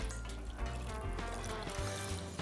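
Water pours into a pan as the base for a cooking sauce, a steady faint splashing trickle heard alone and close for a couple of seconds.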